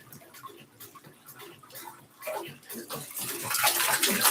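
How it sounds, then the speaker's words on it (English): A 400 gallon per hour pool filter pumps water in a rushing, splashing stream that grows louder and stronger toward the end, with faint ticking underneath. "This is a 400 gallon per hour filter."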